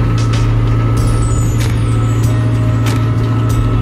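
A big delivery truck carrying a tiny home eases around tight curves on a homestead road, its diesel engine droning steadily up close while short hisses of air brakes break through now and then.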